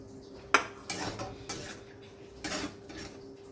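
A spoon stirs grated coconut into melted jaggery in a pot, making several quiet clinks and scrapes against the metal in an uneven rhythm, close by.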